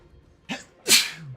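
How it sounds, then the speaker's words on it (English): A single close sneeze, a short indrawn breath followed by a sharp, loud burst, heard alone with no talking. "I have to sneeze, chat."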